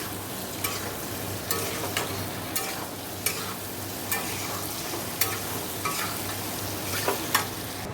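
Eggplant curry sizzles steadily in a frying pan while a spoon stirs it, with sharp scraping clicks coming about once a second over the continuous frying hiss.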